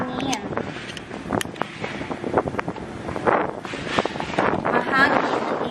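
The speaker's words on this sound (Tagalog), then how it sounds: "Wow, ang hangin." Wind gusts buffet the microphone with a low rumbling roar behind a house in Lancaster New City, Cavite, while a person talks over it, the gusting rising and falling throughout.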